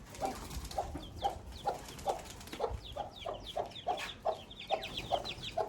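Courtyard birds, quails, pigeons and partridges, give a steady run of rhythmic clucking calls about twice a second, with sharp higher chirps scattered between, fairly faint and close.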